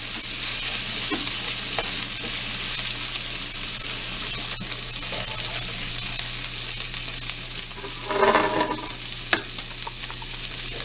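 Fat Cajun shrimp sizzling steadily in a hot pan while being stirred, a constant loud frying hiss with occasional scraping and spoon knocks, a brief burst of louder sizzle partway through; no talking.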